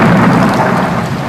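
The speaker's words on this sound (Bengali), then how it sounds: "ওরে বাবারে, কি জোরে বিদ্যুৎ চমকালো!" A loud, close thunder crack booms with a broad rumble during heavy monsoon rain. The rain hiss runs underneath the whole brief burst.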